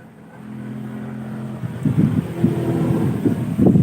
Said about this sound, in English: And it's getting windy.